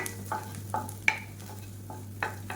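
Garlic and ginger sautéing in butter, a faint low sizzle beneath a handful of distinct scraping stirs of a spoon in the pan, close and quiet, no talk.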